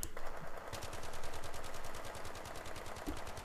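An assault rifle is fired from the hip in a first-person shooter game, producing a sustained rapid automatic burst of loud, evenly spaced shots that runs nearly unbroken through the whole stretch, with no voices.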